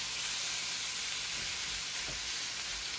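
Shrimp cook in butter over a high flame, giving a loud, dense, unbroken sizzle that holds steady from start to finish.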